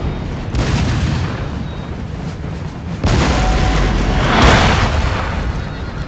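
Cannon artillery booms in a Napoleonic-era battle video game, heard as loud, continuous rumbling volleys with a heavier blast near the end and no talk over them.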